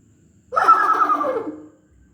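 A voice mimics a mare with a single close, loud whinny lasting just over a second, trailing off into silence.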